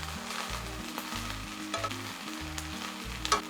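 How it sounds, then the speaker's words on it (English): Chinese fried rice with scrambled egg is stir-fried over high heat, a loud continuous sizzle broken by rhythmic tossing and scraping strokes in the pan, a few sharp clinks, no talking. "Stir fry on high heat to let the moisture out."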